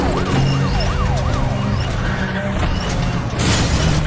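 Police car siren in a racing video game, a loud wailing up-and-down tone cycling repeatedly over engine roar, close by, with a crash-like burst near the end.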